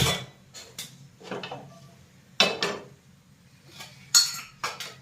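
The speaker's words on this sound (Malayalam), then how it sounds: "തീ കത്തിച്ച് പാത്രം അടുപ്പിൽ" A metal pot set down with a few clanks and scrapes, sharp metallic knocks spaced apart in a quiet room.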